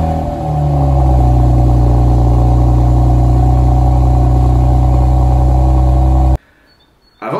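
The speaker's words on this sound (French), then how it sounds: "un second sens vous fait profiter de la magnifique sonorité du 6 cylindres. D'autant plus s'il s'agit du premier démarrage à froid" A BMW 1M Coupé straight-six fires up from cold and settles into a loud, steady, raised idle rumble held for several seconds, then cuts off abruptly and briefly catches again at the very end.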